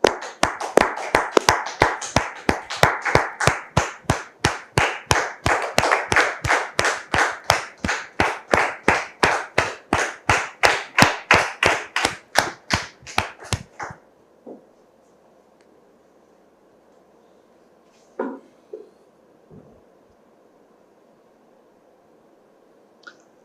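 Studio audience applauds on a French-language television talk show, a dense, loud burst of clapping lasting about fourteen seconds before cutting off abruptly into near silence with a few faint thumps.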